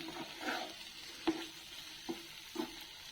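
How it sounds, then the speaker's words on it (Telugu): Boiled chicken is stirred into fried masala in a pan, giving a quiet, continuous sizzle with a few distinct spoon clacks and scrapes spaced out. "ఇప్పుడు ఉడికించుకున్న ఈ చికెన్ని వేస్తున్నాను ఇది వేసి కలిపెట్టుకున్నాం"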